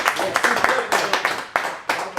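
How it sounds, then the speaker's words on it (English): A small round of applause at a quiz night, heard as a few sparse, scattered claps in short bursts, partly mixed with talking. "a great little round of applause"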